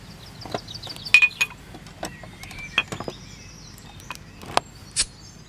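A soda bottle and glasses clink at a small shop, giving sparse, bright taps and chinks at close range over a quiet background.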